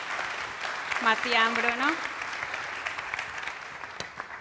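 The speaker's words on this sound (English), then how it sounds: "I kindly ask you another applause for my team that is here with me today" Audience applause at the ChefAlps 2019 culinary event, a steady crowd clapping throughout, with a voice speaking briefly over it near the start.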